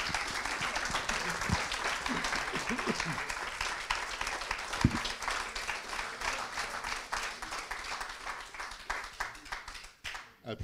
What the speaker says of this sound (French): Applaudissements particulièrement nourris.